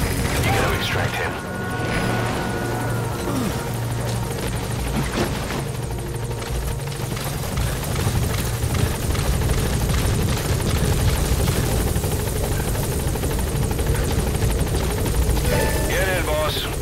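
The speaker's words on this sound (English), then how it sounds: "Support helicopter has arrived." Steady support helicopter rotor drone in Metal Gear Solid V: The Phantom Pain fills the whole stretch with mechanical whirring and clanking, loud and continuous, a voice speaking over it.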